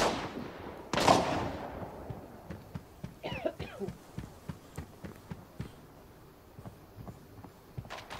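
An SKS rifle firing in the mobile shooter game Arena Breakout, heard from a basement as a series of muffled, distant, evenly spaced reports over a low background hum, after one louder burst near the start.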